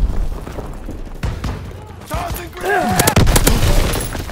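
Multiplayer match in Call of Duty: WW2, with bursts of in-game gunfire and booms mixed with game voice callouts and sweeping effects, loud and busy throughout.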